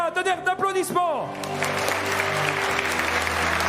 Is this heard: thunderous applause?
yes